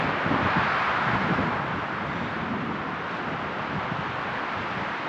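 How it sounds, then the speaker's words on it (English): Steady wind roars and buffets the microphone without a break on Mount Lemmon's Pusch Ridge, a broad rushing noise with no voices. "Getting windy again, just like it was yesterday."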